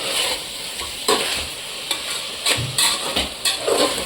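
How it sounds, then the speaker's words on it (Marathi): Chicken pulao masala being stirred and sautéed in a pan, with soft sizzling under scraping spoon strokes that come in irregular bursts, close by and moderately loud, with no talking. "याला परतवण्याची जास्त मेहनत घ्यायची कलर बदलेपर्यंत परतवायचं"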